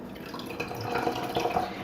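Warm mulled pumpkin spice apple cider drips and trickles from lifted cheesecloth, a soft continuous patter of liquid falling into a vessel, close but fairly quiet.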